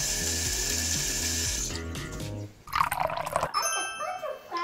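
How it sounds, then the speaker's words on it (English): Water pours into a bowl of dairy-free carrot muffin batter in a home kitchen, a brief trickle and splash heard after a stretch of background music, close and moderately loud. "I'm going to add 1/8 of a cup of water to these muffins."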